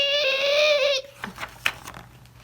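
A voice imitates car brakes screeching as a car stops quickly: one steady, high, tonal vocal squeal held for about a second, close and loud, followed by faint scattered rustling noises.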